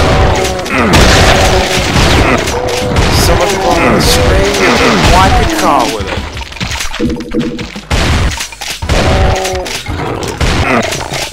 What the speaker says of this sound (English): Shoot a shotgun!